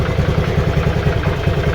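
A Honda Grazia scooter engine idles steadily right after starting, a close, even low thrum with a fast regular pulse and light mechanical clatter and no voices.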